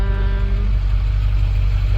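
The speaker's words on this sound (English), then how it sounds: "a very loud truck just pulled up next to me" A loud truck idles close by in a Phoenix parking lot, a heavy low engine rumble filling the whole stretch without pause.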